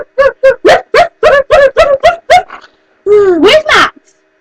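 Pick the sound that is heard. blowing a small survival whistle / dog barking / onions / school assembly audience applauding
dog barking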